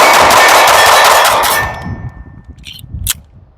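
A Viking Firearms 4.6-inch compensated, ported pistol fires ten rounds at an outdoor range. The loud, fast string of shots blurs together for about a second and a half, then a ringing tail and two sharp metallic clangs follow.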